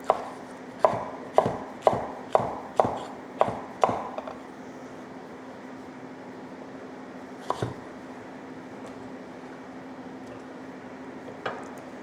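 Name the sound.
knife slicing capsicum on a board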